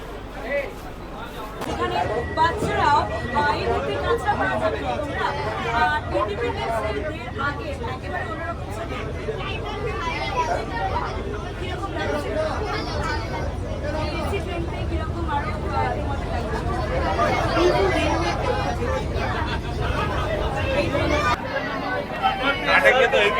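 Crowded AC local train running from Sealdah to Ranaghat, a steady babble of many voices filling the carriage over the low rumble of the moving train, loud and continuous throughout.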